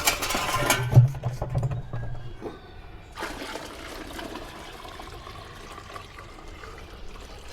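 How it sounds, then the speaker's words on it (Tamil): Water splashes and trickles into an old-umbrella aquarium container, with a brief louder pour near the start, then a steady softer running stream continues. "இதுக்கு அடுத்து இன்னும் கொஞ்சம் தண்ணி வந்து இதில் ஊற்றிக்கிறேன்"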